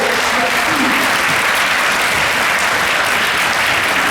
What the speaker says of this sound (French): Vous pouvez applaudir Mirka